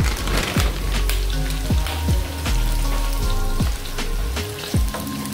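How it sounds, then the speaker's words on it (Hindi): Vegetables for bow pasta with meatballs sauté in a hot pan, giving a steady close sizzle broken by repeated clacking knocks of a utensil against the pan. "2-3 मिनट के लिए आप सॉटे कर लें इनको"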